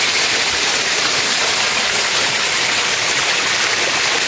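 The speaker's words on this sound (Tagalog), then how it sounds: "Falls pala ito." Broadband roar of a waterfall in a rocky river gorge beneath a high bank, a steady wash of hiss that stays loud and even throughout, with no talking.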